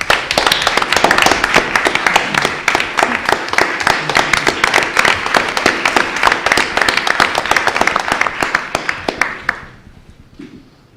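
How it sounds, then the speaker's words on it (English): A hall audience at a journalism lecture gives a round of applause, dense and steady clapping sustained for about ten seconds before tapering off to quiet at the end. "Please give them a round of applause"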